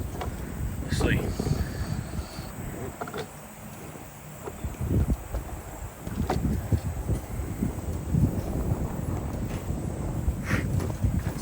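Wind blowing outdoors where new mule harnesses are being unpacked, a steady rushing buffet across the microphone with scattered knocks and light handling noises throughout.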